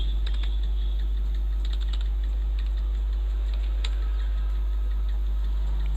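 A name being typed on a computer keyboard for entry into Tally accounting software: a quick run of light key clicks over a steady low electrical hum, with no speech.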